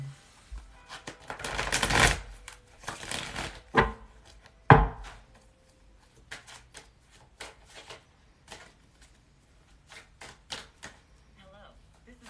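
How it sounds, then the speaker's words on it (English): Tarot cards shuffled by hand, with dense papery riffles and slaps bunching into a louder burst near the start, then lighter scattered card clicks and taps spread across a quiet room. "One more shuffle."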